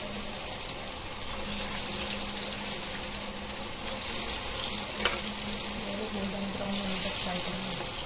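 Marinated chicken frying in hot oil for Chinese biryani, a steady moderate sizzle and crackle throughout, close and fairly quiet, with a brief clink midway.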